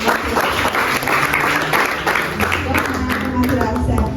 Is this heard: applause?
yes